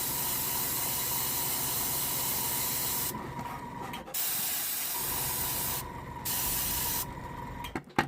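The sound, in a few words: airbrush spraying Admin Grey paint onto a model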